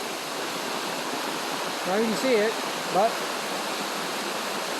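Steady rain pours during a storm, an even rushing hiss like running water that fills the whole stretch, while someone briefly speaks over it.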